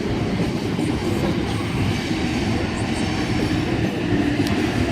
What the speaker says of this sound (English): We have a Newcastle interchange service arriving on platform number 5, front half